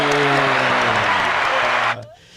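A studio audience claps for guests in a dense, loud wash of applause, with a voice and tones underneath. The clapping cuts off sharply near the end, leaving quieter room sound.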